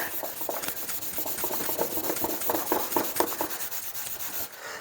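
Steady rapid rubbing as a towel is worked by hand over a metal fuel tank panel with polish, a continuous close scrubbing texture without any talk.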